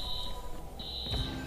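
In the video game Watch Dogs, a security alarm gives a high, steady electronic tone that cuts out briefly and then resumes, over a low rumbling game background with a dull thud.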